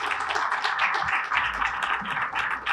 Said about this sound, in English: One more round of applause for Mayor Richard C.